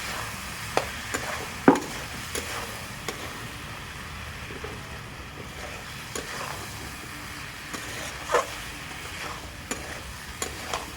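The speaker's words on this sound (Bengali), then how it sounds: "মশলাটা ভালো করে কষিয়ে নেব" Spice masala being sautéed in a pan for a vegetarian dish, a faint frying hiss with scattered stirring scrapes and a few sharp utensil knocks against the pan, no voices.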